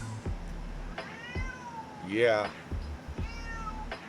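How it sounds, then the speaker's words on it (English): Cat meowing in the background, one drawn-out mewing call in the middle of the clip with fainter short mews around it, heard beneath a person's speech. "And I'm sorry if you heard the cat in the background"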